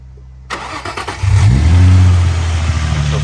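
A Nissan 350Z fitted with a new cold air intake cranks over and fires up, then a loud, close engine roar settles into a steady idle with no voices.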